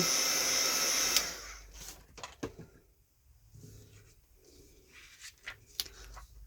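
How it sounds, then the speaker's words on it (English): An embossing heat gun from a scrapbooking kit blows a steady, fairly loud hiss for about a second, then cuts off, leaving faint handling clicks and soft rustles. "This is just my embossing gun from my scrapbooking stash."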